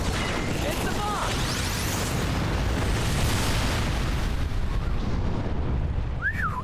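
Rumbling, booming bomb explosion in the video game Trials of Mana, a dense roar filling the clip with a few whooshing effects layered over it.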